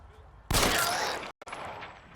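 A sudden loud crack of gunfire in the game L.A. Noire, followed by a sustained noisy burst that cuts out briefly, then lingering softer rumble and debris sounds.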